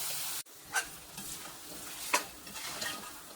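Ground ginger chutney going into a pan of hot tempering, with a soft sizzle under a few scraping stirs and one sharp tap at the start, faint and close.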